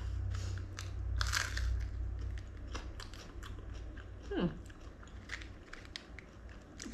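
A crunchy rice-starch cracker, made as a vegan bacon, is bitten and chewed up close, giving several sharp crisp crunches followed by softer chewing.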